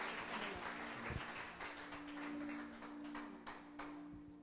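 A church congregation applauds during a Portuguese-language service, a steady wash of clapping that holds at an even level for several seconds over a low electrical hum.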